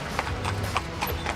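Horses' hooves clip-clopping at a steady walking pace, a series of hollow knocks over a constant outdoor background rumble.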